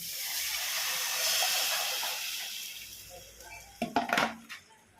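A loud hiss and sizzle as fish curry gravy is poured into a hot pan fades over several seconds, followed by a few clanks of metal cookware near the end.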